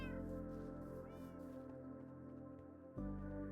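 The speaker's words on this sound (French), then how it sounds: "ici, on a nos petits chats." Cats in a video game meow several times in short, tonal calls over a sustained musical background, with a brief louder shift near the end.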